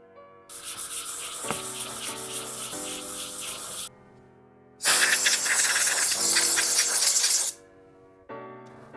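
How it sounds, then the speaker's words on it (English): Hand sanding a Yamaha YZ125 two-stroke engine part, a close, loud abrasive rasping in two long bursts of back-and-forth strokes with short pauses and light handling clicks between them. "sand this down one more time before I throw it back on the motor"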